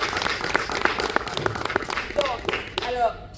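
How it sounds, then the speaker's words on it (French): Applause rises from the audience at a live talk show, scattered claps and taps spread through a roomy space, with a voice talking over them and a few louder claps near the end. "On applaudit."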